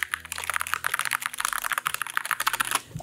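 Rapid, continuous clacking of keyboard keys typed in a quick burst for a sound test, close and crisp with no talking.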